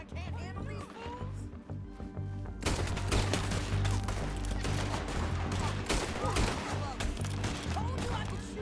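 Rapid volleys of gunshots in a Red Dead Redemption 2 firefight, loud and close, crackling in dense overlapping bursts that intensify after a quieter opening, with voices faintly mixed in.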